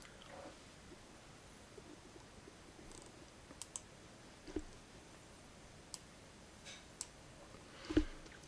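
Fault relay on a network routing device clicking, heard as a few faint, sharp, isolated clicks spaced across an otherwise very quiet room.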